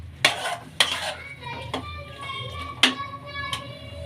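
Potato and pea masala stirred in a frying pan, a few sharp scraping and clanking spoon strokes over a soft background sizzle, close and fairly loud.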